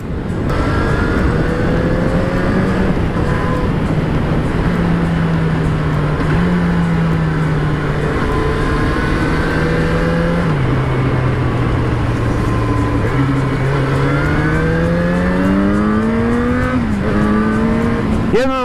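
Motorcycle engine revving high while riding, a loud close drone climbing and dropping in pitch through repeated gear changes, with a sharp high rev flourish at the very end.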